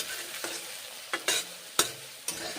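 Ground spice paste of roasted coriander and green chili fries and sizzles in a pan while it is stirred, with several distinct scraping strokes over a low, continuous sizzle.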